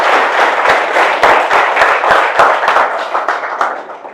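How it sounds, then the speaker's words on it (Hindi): An audience applauds a guest walking on stage, dense rapid clapping from many hands that stays loud and close, then thins and fades out near the end. "इन्हीं तालियों की गड़गड़ाहट के साथ में आप स्वागत कीजिए परिमल सर का"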